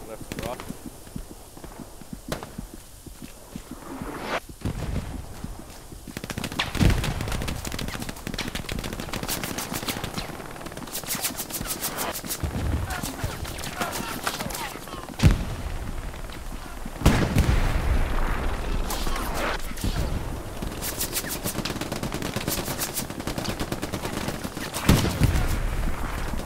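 Game gunfire and artillery in the WWII shooter Hell Let Loose: dense, steady battlefield noise with bursts of rapid fire and several louder booming impacts, heard under voices talking over team chat.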